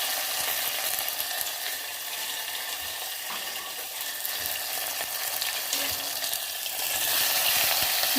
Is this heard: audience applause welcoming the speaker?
no